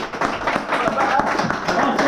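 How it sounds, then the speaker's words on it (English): A small group at a charity football match claps briskly and unevenly for a couple of seconds, with voices mixed in underneath. "Give him a little clap, yeah."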